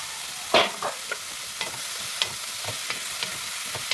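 Eggplant and mixed vegetables sautéing in a pan give a steady sizzle, with scattered clicks and scrapes of stirring, one sharper clack near the start, and no talking over them.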